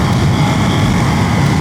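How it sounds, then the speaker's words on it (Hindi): Steady, loud rushing wind roar buffeting a microphone while riding a Ducati Monster motorcycle fast, dense low rumble with no breaks. "पर मुझे विंड ब्लास्ट बहुत ज़्यादा सॉलिड लग रहा है अभी।"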